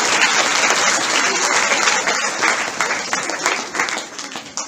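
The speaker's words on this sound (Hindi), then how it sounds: "इनके लिए भी जोरदार तालियां।" Loud, dense applause from an audience at a New Year 2021 cultural programme greets a children's drama, sustained throughout and slowly thinning toward the end.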